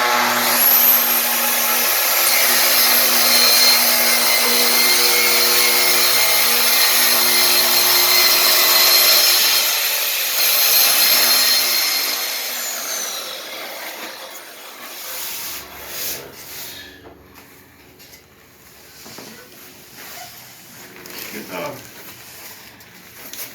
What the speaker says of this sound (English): It's an alternative to a table saw where you just move the saw and the track.